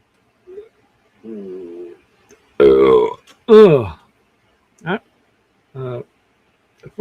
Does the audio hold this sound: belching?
yes